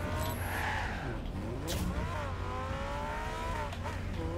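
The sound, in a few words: car engine in a video game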